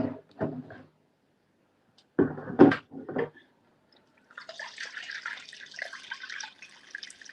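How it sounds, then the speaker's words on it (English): Water poured from a container over pork in a cooking pot in a kitchen, a burst of splashing and trickling that starts after a few sharp knocks and runs steadily to the end, fairly quiet. "Well, you cover it with water."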